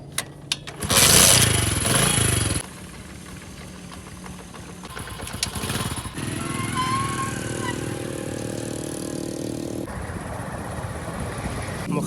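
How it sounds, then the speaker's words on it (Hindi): A motorcycle being switched on and started, with a loud burst early on, then a steady engine idle that shifts in tone a few times, close and continuous. "सबसे पहले अपने बाइक का स्विच ऑन करते हैं।"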